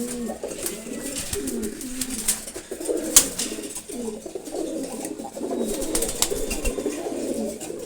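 Repeated low, throaty cooing comes from an old male Giribaz pigeon, close and continuous, punctuated by a few sharp clicks and faint rustles in the background.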